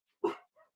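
A dog gives one loud, close bark followed by a softer second yip, alone with no voices.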